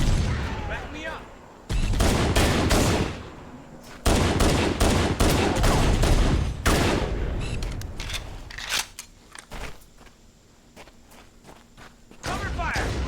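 Rapid bursts of gunfire crackle through a firefight in Halo: Combat Evolved, loud and dense volleys with brief pauses, mixed with game voices calling out over the shooting.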